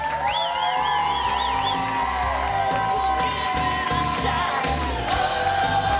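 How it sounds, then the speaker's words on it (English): Wedding guests cheer, whoop and yell loudly in a crowded reception hall, a continuous dense roar lasting throughout, with music or tonal sounds running underneath. "Let's give it a round of applause for Bacon and Merrimont right here."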